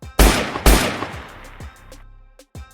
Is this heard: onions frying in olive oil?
no